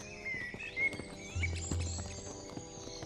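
Horses walking while being ridden through a forest, hooves clip-clopping in a loose, uneven rhythm at moderate distance, with a faint whinny-like tone and a bird chirping over a quiet background.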